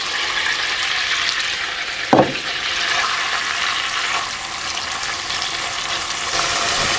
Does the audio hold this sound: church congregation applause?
no